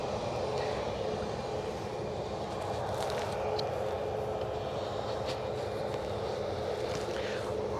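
Aircraft G-Tummel holding position on an airfield runway under low cloud, its engines giving a steady, continuous broadband roar that stays even and fairly loud throughout.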